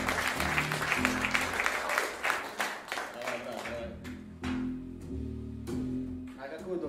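A concert audience at a live jazz trio show in Moscow claps. Scattered claps firm up into sharper, rhythmic hand claps in the second half, mixed with a voice and tonal background sound.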